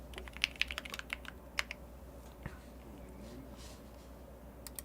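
Computer keyboard typing in the TypeBlazer typing game: a quick run of crisp key clicks over the first two seconds, then sparser taps against a faint steady hum.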